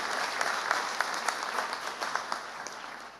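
A graduation ceremony audience applauds, a dense steady wash of many hands clapping at moderate distance with scattered louder claps, no voices.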